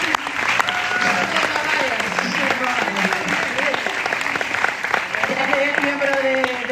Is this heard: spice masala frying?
no